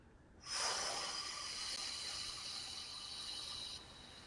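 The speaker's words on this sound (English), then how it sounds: "Take a deep breath into the belly. Bring it up to the chest. And exhale from the belly first." A slow, deep exhale from the belly rushes out as a soft, breathy hiss lasting a few seconds, close and quiet, with no talking over it.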